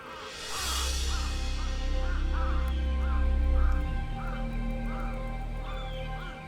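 Harsh repeated crow caws recurring at a steady pace, about one every half second, over a loud low rumble of wind or traffic in urban Tokyo woodland near a goshawk nest.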